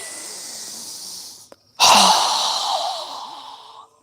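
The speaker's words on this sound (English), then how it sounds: "Strong exhale." A single strong, forceful exhale during a yoga breathing exercise, a loud close rush of breath after a brief pause, fading out over a couple of seconds.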